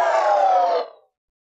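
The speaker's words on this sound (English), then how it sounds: "This riser right here is tight" Riser sound effect made from a sample pitched down 12 then up 24 semitones, a single bright, noisy swell lasting under a second that cuts off and fades quickly, heard alone.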